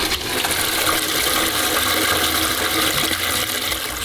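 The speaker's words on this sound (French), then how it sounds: "Allez, grande chasse." A workshop toilet flushing loudly and close, a continuous rushing gush of water for the whole stretch with no talk.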